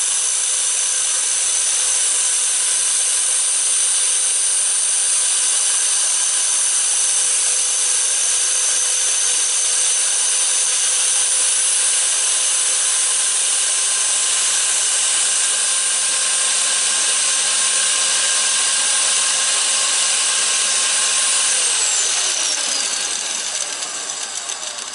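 A lathe-mounted disc grinds a high-speed steel tool, giving a steady, loud, high-pitched rubbing whine that holds for the whole stretch before winding down at the end.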